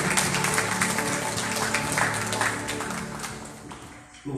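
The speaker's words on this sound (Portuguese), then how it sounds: "Aplauda o nome do Senhor." A church congregation claps together during a Sunday worship service, a dense, steady wash of applause lasting several seconds with murmured voices mixed in, tapering slightly toward the end.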